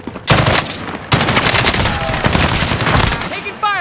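Heavy gunfire in the Call of Duty Warzone video game, loud and dense with bursts of shots hitting hard and continuing almost without a break.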